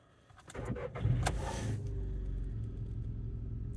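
A car engine started from cold and not allowed to warm up: a short crank catches into a louder rumble, then settles into a steady, close idle with no talking.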